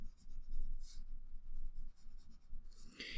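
Pencil scratching and shading on paper while sketching a nose, a steady soft rasp of repeated strokes, close and continuous with no talking.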